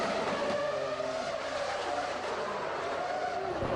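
A 1999 Formula 1 car, Mika Häkkinen's McLaren, slides straight on over dropped oil at Monaco heading toward Mirabeau, engine droning with tyre skid noise throughout under a steady race-broadcast roar.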